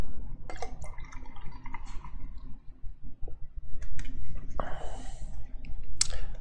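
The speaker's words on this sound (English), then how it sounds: "I left a little in the can, so I get a refill." Remaining Cryonic Sticky IPA from D9 Brewing poured from a can into a glass, with soft liquid splashing and clinking of the can against the glass, a brief fill sound near the end, close and fairly quiet.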